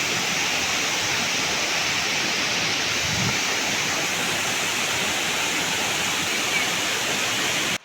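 Bheel Beri waterfall in Rajasthan pours in a steady, loud, continuous roar of rushing water, filling the whole stretch without a break and with no voices.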